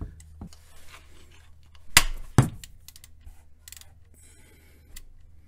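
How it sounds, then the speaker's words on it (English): A 3/8 ratchet works loose the transmission drain plug on a Honda Accord V6 automatic, giving a few soft clicks and two sharp, close knocks as the plug breaks free, over a low steady hum with no talking. "What you use is just a 3/8 part of your ratchet to get it loose."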